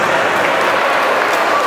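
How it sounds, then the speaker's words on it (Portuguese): Audience at a senior beauty pageant judging panel in Cabo Frio applauding Thelma, a dense steady wash of clapping filling the whole short stretch at fairly loud level. "Vamos aplaudir a Thelma."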